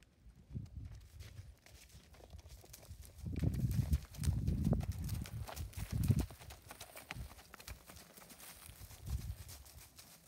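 Hooves of a mare clip-clop as she is moved to show her gait, a quick uneven rhythm of dull thuds on the ground, fairly close, with no talk.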